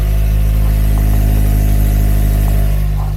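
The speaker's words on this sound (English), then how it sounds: "And then when you rev it out," Lexus GS430 V8 engine with exhaust cutouts open and no exhaust past the secondary catalytic converter and resonator, a loud, steady deep rumble held near the microphone with a slight swell toward the end.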